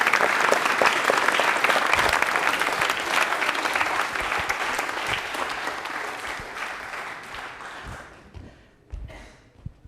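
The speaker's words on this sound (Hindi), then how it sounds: "तालियां हो जाए फिर जोरदार एक बार" A studio audience on a Rajasthan television general-knowledge quiz show claps in a loud, dense burst of applause that holds steady for several seconds, then thins out and fades near the end, with a few scattered final claps.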